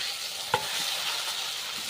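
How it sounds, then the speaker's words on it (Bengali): Okra and fried potato stirred into a spice masala with oil in a pan, a constant close sizzle with one sharp spatula knock near the start. "এই মশলা ভাজানো হয়ে গেছে, তেল ছেড়ে এসেছে। এবার দিয়ে দেবো ভেন্ডি আলু ভেজে রাখা।"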